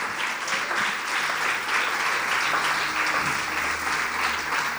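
Congregation applauding during a church service, a steady dense wash of clapping filling the whole stretch, fairly loud and continuous with faint murmuring beneath.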